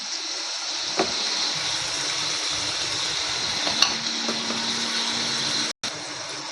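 Onion and tomato go into hot oil in a pan for a dried-fish curry and fry with a steady, continuous sizzle. A few faint clicks and knocks come through, and a brief cut-out occurs near the end. No one speaks.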